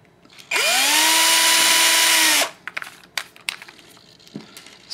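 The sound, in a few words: electric drill threading rod into rod ends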